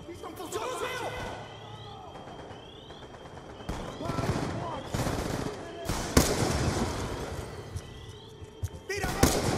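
Bursts of gunfire in Call of Duty: Black Ops II crack out in irregular volleys, some rapid and clustered, with thuds and game sounds between them.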